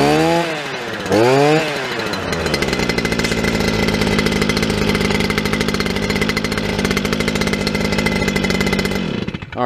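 A gas string trimmer pulled into life: two rising starter-rope sweeps, then a rough two-stroke engine catching and running steadily and loud at close range, cutting off near the end.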